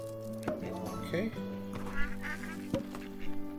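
Ducks on a farm in the video game Farm Together quack and honk in several short bursts over a steady musical drone, close and moderately loud.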